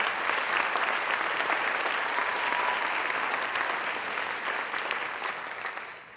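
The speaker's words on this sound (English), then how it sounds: "give them a round of applause." Sustained applause from a graduation audience for the graduating high school class, a dense steady clapping that fills the room and fades slightly toward the end.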